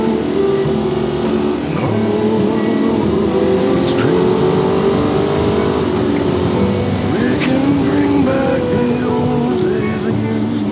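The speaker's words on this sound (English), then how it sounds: "there are just hordes of bikes out today" Hordes of motorcycles riding along the Putty Road on a group ride, a steady loud engine drone with passing bikes swelling and fading over continuous wind and road rumble.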